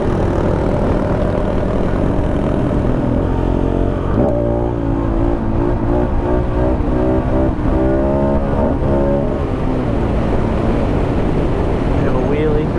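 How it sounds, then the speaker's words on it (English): KTM 690 motorcycle engine pulls hard through desert sand, a loud close drone whose pitch climbs and wavers as the throttle opens and eases, with wind buffeting throughout. "Bit of a wheelie through the sand."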